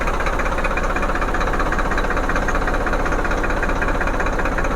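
A tractor diesel engine idles steadily after its fuel pump RPM adjustment, a loud, close, continuous knocking rumble with even rhythmic pulses and no change in speed throughout.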